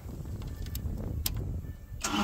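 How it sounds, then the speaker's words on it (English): An Airman SDG25 generator engine cranks and starts up, settling into a steady low rumble with a few sharp transients, heard alone with no talk. "first we're going to start it up"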